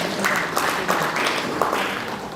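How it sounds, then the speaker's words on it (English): An audience gives a round of applause at a student debate, a dense wash of clapping with a few louder bursts, steady and moderately loud throughout. "Let us give them a round of applause."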